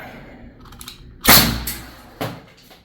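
A Byrna launcher fires a kinetic projectile into a metal pan. A single sharp, loud crack rings out, followed by two fainter metallic knocks with quiet between them.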